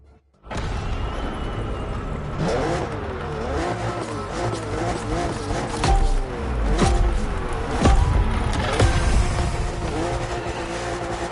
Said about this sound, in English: Drifting is my thing, and on top of that, I know this M4 very well